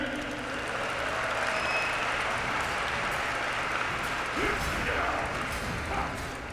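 A crowd claps steadily, a dense wash of applause filling the room, with voices murmuring underneath.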